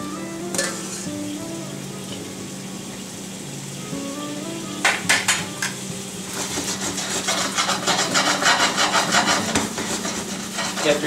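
Carrots being stirred and coated in butter in a sauté pan give intermittent scraping and rubbing strokes that build into a busier, continuous stir with a light sizzle, close and moderately loud.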